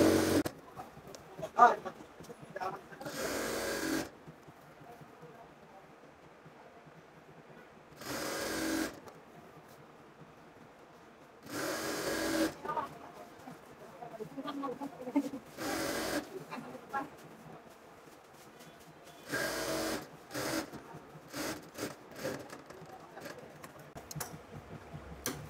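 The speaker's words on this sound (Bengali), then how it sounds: "এইভাবে একটা সেলাই দেওয়ার পর এখান দিয়ে আমাদের আরেকটা সেলাই দিতে হবে" A sewing machine stitching a petticoat waistband belt, its needle rattling in several loud bursts separated by quiet pauses, with a low room hum and faint handling noises between runs.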